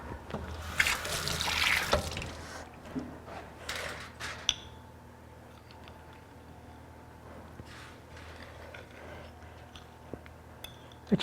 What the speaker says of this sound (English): I think the knife would do a better job if I rinsed it in cold water.